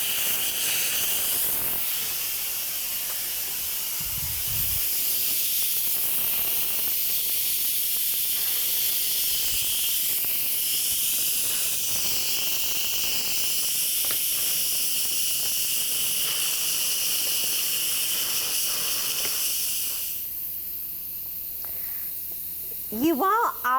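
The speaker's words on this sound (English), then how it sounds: "You want all of the steam to release before you attempt to open it, because again, a lot of pressure has built up within our Instapot" Steam venting from an Instant Pot electric pressure cooker after release is switched to vent, a steady loud hiss that runs almost unbroken for about twenty seconds before cutting off near the end.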